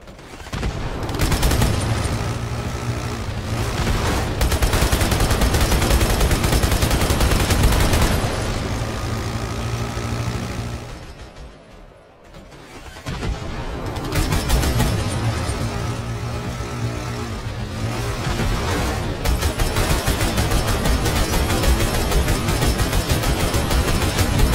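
The Gungoose vehicle in Halo 2: Anniversary fires its mounted guns in long, continuous, loud rattling bursts over engine roar and explosions, with a brief lull midway before the barrage resumes.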